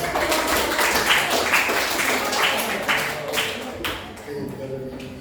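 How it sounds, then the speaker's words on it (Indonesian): Classroom applause breaks out at a teacher training session, a burst of clapping with sharp individual claps that gradually thins and fades toward the end. "Oke, beri tepuk tangan."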